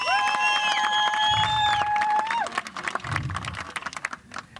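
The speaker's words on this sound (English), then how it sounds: "Let's give them a round of applause." A crowd at an anti-corruption march in the North West, with loud sustained whistle or horn tones at first, then dense clapping and cheering that thins into scattered claps.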